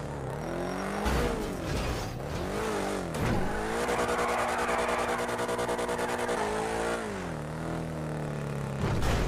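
A car driven in a GTA roleplay video game, its engine revving up and down through repeated acceleration with brief tire squeals, loud and close with no talk over it.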